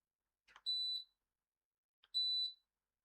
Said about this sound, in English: of course you hear a beep when I change the setting